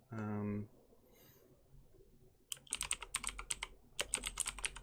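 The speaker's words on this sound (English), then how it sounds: "I know my keyboard's loud." A brief voice gives way to fast, loud clattering keystrokes on a computer keyboard, typed in two quick bursts close by.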